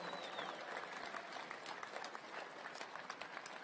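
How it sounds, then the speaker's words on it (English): A large outdoor crowd of fans at the Indianapolis 500 public drivers meeting gives a sustained round of applause, distant and fairly faint, with scattered individual claps and a thin high whistle near the start. "Give yourselves a round of applause for being the best fans in the world"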